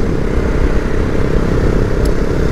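Husqvarna Vitpilen 701 motorcycle riding under steady engine load with a clutchless quickshifter gear change, a loud continuous close engine drone with a brief sharp blip near the end.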